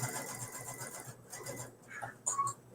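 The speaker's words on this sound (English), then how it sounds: "And then just turn and start stitching down the other side." A sewing machine runs steadily, stitching down the side of a fabric pot holder, its quiet rapid needle rhythm continuous with a brief pause midway.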